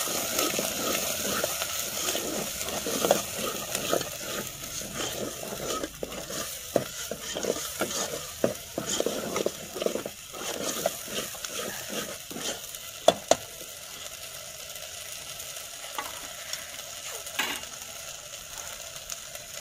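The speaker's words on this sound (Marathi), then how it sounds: "छान मिक्स करून घेते तेलामध्ये." Mutton and ground spice paste are mixed in hot oil in a pot on a wood-fired clay stove, with rapid scraping stirs over a soft sizzle that become sparser and quieter toward the end.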